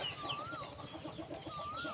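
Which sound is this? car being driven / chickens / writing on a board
chickens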